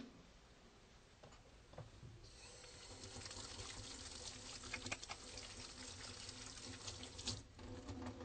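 Running tap water splashes over hands at a sink in an examination room, a steady close rush that swells louder after the first couple of seconds with small shifts as the hands move under the stream.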